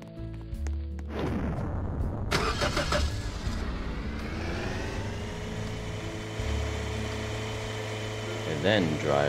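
Car engine in a video game, starting and then running at a steady drone with revving swells as the car is driven toward a den, with game effects layered over the engine.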